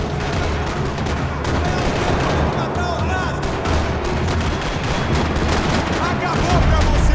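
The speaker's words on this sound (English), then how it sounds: "Another parking lot rattling with gunfire." Dense rapid gunfire rattles through a parking lot in the video game Max Payne 3, a continuous barrage of overlapping shots with faint voices mixed in.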